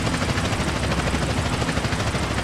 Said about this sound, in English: chopper on our tail